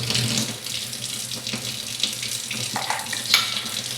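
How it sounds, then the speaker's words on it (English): Water runs from a tap into a small cup, a continuous close splashing stream with small gurgling shifts as the cup fills, no talking. "I'm going to add a tablespoon of water."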